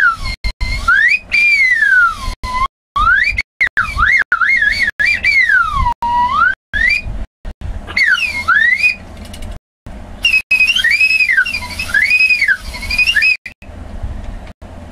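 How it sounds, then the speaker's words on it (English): A slide whistle plays loud, continuous swooping pitch glides rising and falling repeatedly, with brief gaps between phrases and no talking. "Slide whistle."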